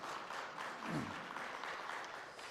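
A church congregation at a Sunday worship service in Calgary applauds a visitor from Korea, a soft, continuous patter of many hands heard from a distance with a brief voice murmuring beneath.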